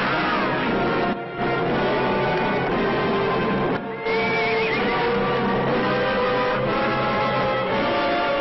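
A horse whinnies amid a busy, loud mix of commotion and rumbling in a western movie, the neighs rising and falling over the noise.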